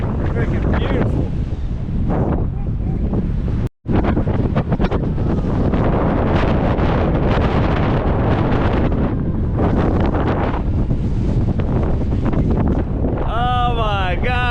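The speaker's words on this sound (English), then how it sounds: "it's so cold and windy" Cold wind buffets the microphone loudly and continuously on an exposed coastal trail near Smugglers Bay, New Zealand, with a brief dropout near four seconds and a faint tonal squeal near the end.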